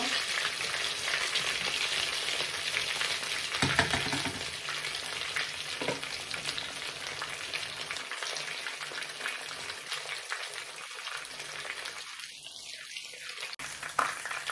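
Breaded pork chop fries in a pan with a constant hissing sizzle and crackle, occasional scrapes and clatter as it is handled, the sizzle continuing throughout at moderate level.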